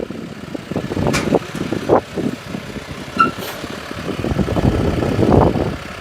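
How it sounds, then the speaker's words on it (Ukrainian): A truck engine revs hard and steadily while the truck is driven onto a flatbed trailer, a loud, rough rumble with repeated surges, and no voices heard. "Якщо Вікторович газує, Анатолій Васильович керує"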